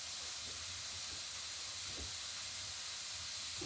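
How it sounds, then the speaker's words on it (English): Ground beef goes into a hot pan and sets off a steady broadband sizzling hiss that runs unbroken, close and even, with a few faint soft knocks underneath. "We're gonna put our meat in our little pan right here."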